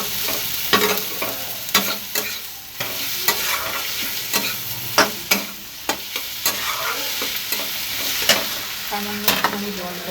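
Potatoes fry in a pan with ground cumin and turmeric while a spoon stirs them in short scraping strokes. A steady sizzle sits underneath the sharp, irregular stirring clatter, and the whole sound is close and fairly loud.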